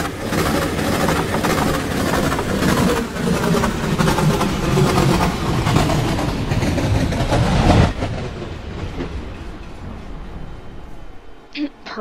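A TRE train in a Roblox railway game rolls out of the station with a loud, continuous rumble and clatter that fades away toward the end.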